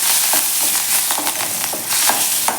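A phodni tempering for horse gram soup sizzles in the pan: continuous close, fairly loud crackling and hissing, broken by sharp spitting pops and occasional stirring, with no one speaking.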